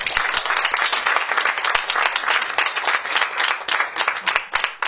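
Dense, continuous applause from a comedy show audience in a theatre, many hands clapping steadily at full volume with no gaps, running the whole time without talk.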